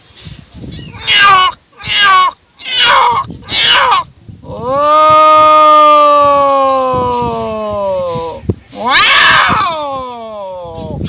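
A voice imitates a cat meowing at another cat: a few short sharp yowls, then a long drawn-out wailing meow and one more cry, loud and close.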